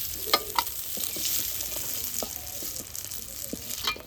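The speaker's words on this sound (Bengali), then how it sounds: "কাজু কিশমিশটা ভেজে নেওয়ার পর একটা পাত্রে তুলে নিচ্ছি" Cashews and raisins sizzle in hot fat in a kadai, a steady, bright crackling hiss with occasional soft clinks and scrapes of stirring, close and continuous with no talk.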